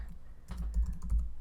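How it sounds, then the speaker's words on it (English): Typing on a computer keyboard while entering birthday text for a Cricut Explore card design, a quick run of close, crisp key clicks in a short burst with no talking. "I'm going to type birthday to you."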